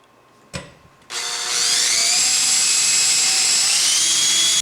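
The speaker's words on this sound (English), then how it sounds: "pre-drill the other 2 holes and then send in the other 2 screws as well" A power drill whirs in a long steady run after a brief initial burst, pre-drilling holes and driving screws to mount a basement pull-up bar, loud and close with no talking.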